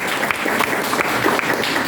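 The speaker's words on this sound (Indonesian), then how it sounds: "tepuk tangan untuk Ketua." Steady applause from a crowd for the chairman at a Pemuda Batak Bersatu regional meeting, dense and even clapping filling the whole moment with no pause.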